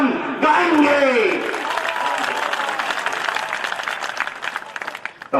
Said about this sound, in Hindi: कमजोर तालियां थी, कोई बात नहीं।